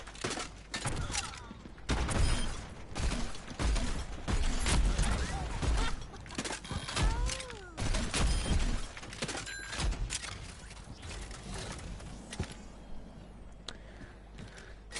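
Junkrat's frag launcher and concussion mine blasts from the Overwatch video game, a rapid run of sharp, punchy explosions and bursts that fire close and loud with the game's effects layered underneath.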